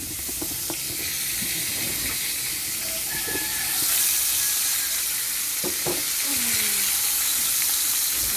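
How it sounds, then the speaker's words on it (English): Chicken frying in a pan, a steady soft sizzle and hiss with occasional stirring scrapes and clinks close by, moderately quiet and without talk. "And this is the last set of chicken frying"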